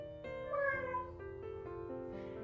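A person's voice imitates a cat's meow, one drawn-out, wavering call, fairly quiet and close, with no other talk.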